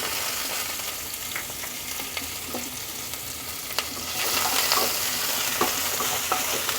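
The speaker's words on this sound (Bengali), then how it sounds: "এগুলো একটু হালকা ভাজা হবে" Small onions lightly frying in oil, a steady hiss of sizzling with occasional stirring scrapes, growing louder about halfway through, close up and with no talk.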